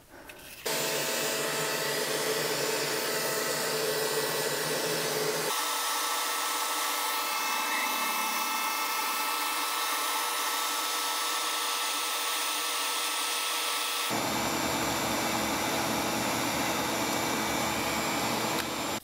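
Shop vacuum sucking ashes out of a Harman pellet stove, a loud, steady roar lasting throughout whose pitch and tone shift abruptly twice as the nozzle moves, close by with no talk.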